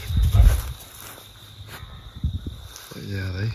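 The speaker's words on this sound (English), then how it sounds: "Where's the cricket?" A cricket chirps outdoors beneath an old pecan tree in a front yard, a thin steady trill under footsteps, rustling and nearby people talking.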